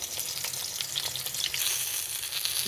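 Eggplant slices sizzling in hot oil in a frying pan, a steady close crackle and hiss with fine popping spatter throughout, no voices.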